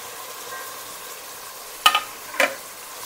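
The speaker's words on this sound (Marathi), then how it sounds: "भाज्या पण आपण चांगल्या परतून घेऊया तेलामध्ये" Mixed vegetables sautéed in oil for veg pulao, with a low steady sizzle and two sharp utensil clinks against the pan near the end.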